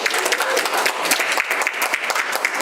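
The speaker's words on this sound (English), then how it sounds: "can we give a good round of applause to the MC?" A convention audience at a family and community event gives the MC a round of applause: brisk, close clapping from many hands, continuous and lively throughout.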